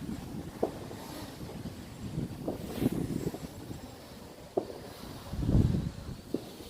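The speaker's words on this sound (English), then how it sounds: "Man, the wind has picked up." Gusty wind blows across an open park, rumbling steadily against the microphone with several stronger buffets and low roaring swells, no voices present.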